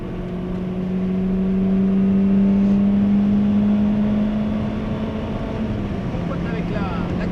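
A Peugeot 206 S16 engine droning steadily from inside the car while cornering, its tone rising slightly then easing off, with people talking over the engine noise.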